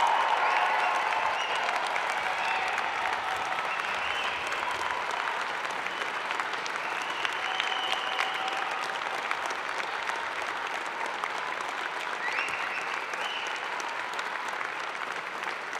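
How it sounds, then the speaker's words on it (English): Sustained applause from a large crowd at a university convocation ceremony for a graduating class, steady and loud for the whole stretch with a few faint cheers mixed in. "join me in applauding the amazing graduating class of Spring"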